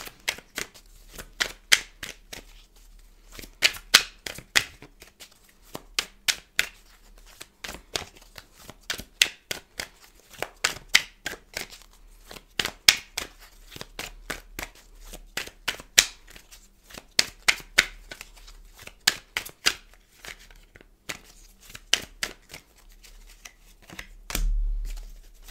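Tarot cards are shuffled by hand in a long run of crisp, rapid riffles and snaps, close and fairly quiet, with short pauses between bursts and a soft thump near the end.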